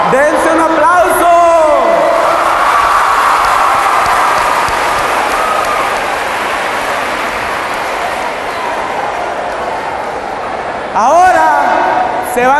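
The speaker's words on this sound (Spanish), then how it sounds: "¡Dense un aplauso!" A crowd of young people at a live stand-up comedy show claps loudly and steadily for about ten seconds, with shouts and whoops at the start and a performer's voice over the end.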